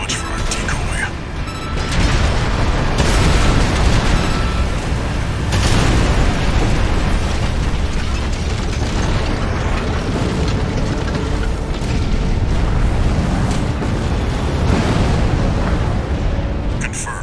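A massive Juggernaut war machine blows up in Armored Core VI, a loud, sustained roar of booming blasts and rumbling debris that continues dense and heavy throughout, with a sharp burst near the start.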